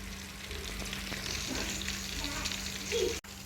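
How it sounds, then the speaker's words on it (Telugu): Oil heating in a pan on a stove while cooking a fish curry gives a steady, close sizzle with a low hum beneath it. A brief louder crackle comes near the end, then it cuts off abruptly. "బాండీ విడికిన తర్వాత నూనె పోసుకున్నా ఫ్రెండ్స్"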